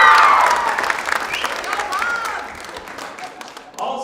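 A crowd at a 2022 Atlantic Major U18 Female Hockey Championships banquet cheers and applauds, a loud wash of clapping and whoops that gradually thins out, with a few raised voices mixed in.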